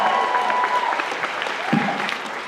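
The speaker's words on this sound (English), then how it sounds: "Round of applause for Stephen Norton" A crowd at a fan convention panel applauds for an actor, steady full clapping with a faint voice briefly audible underneath.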